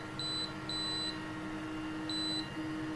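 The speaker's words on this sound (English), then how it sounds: "the alarm's going" XTool laser fire safety system alarm sounds three short high-pitched beeps in an uneven pattern over a steady background hum, moderately faint, with no one speaking.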